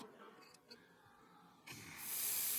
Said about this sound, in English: why are we spraying the inside of a panel that's not visible?